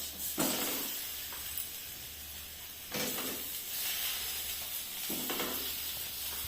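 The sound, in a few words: potatoes frying in spices with green chili and ginger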